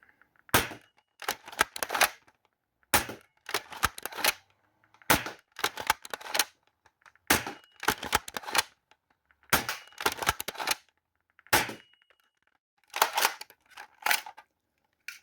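A Dart Zone Stryker toy blaster empties a magazine of foam darts, giving bursts of sharp snapping shots in quick runs separated by short pauses, close and fairly loud with no talking.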